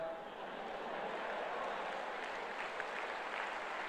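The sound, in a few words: audience applause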